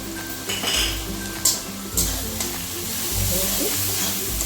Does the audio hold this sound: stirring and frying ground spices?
yes